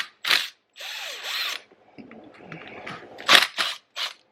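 Ratchet wrench clicking as crankcase bolts on a 1992 Yamaha YZ250 two-stroke are broken loose, with short bursts of close, sharp pawl ratcheting separated by pauses and some metallic handling noise.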